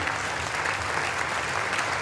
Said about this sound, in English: Ted Cruz clapping for vaccines